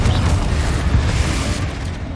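A Confringo spell blast in Hogwarts Legacy, a loud, rumbling low boom that rolls on for about two seconds with a dense crackling tail, no talk over it.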